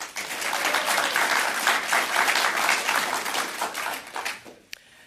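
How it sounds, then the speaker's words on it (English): A room of attendees at an awards ceremony for community access media applauds, dense even clapping that holds then thins out and fades near the end, leaving a few last claps. "let's give them a round of applause"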